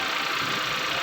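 A 2019 Kia Sportage engine runs steadily after a fuse fix, a loud, close, continuous mechanical drone with no break for the whole second.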